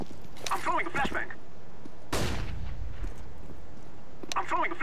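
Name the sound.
flashbang grenade thrown in video game CS:GO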